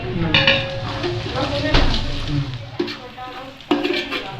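Chopped tomatoes tumble into a pan of onions frying in hot oil with ginger, garlic and green chilli paste, giving a loud, steady sizzle with stirring scrapes and a couple of sharp clatters near the end.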